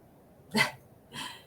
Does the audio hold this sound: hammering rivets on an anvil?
no